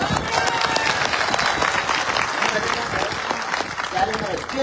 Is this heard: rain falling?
no